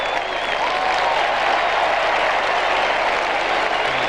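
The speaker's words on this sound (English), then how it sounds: "the Geelong fans have something to applaud" Geelong fans applauding at a 1989 VFL qualifying final against Essendon, a dense, sustained wash of crowd clapping heard from a distance at a steady level.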